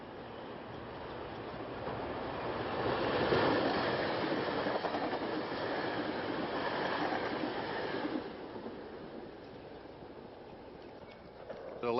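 R3 commuter train from West Trenton to Elwyn passing just west of Media on the old Pennsy line, a steady rumbling roll with rhythmic wheel clatter that swells and then eases as it goes by.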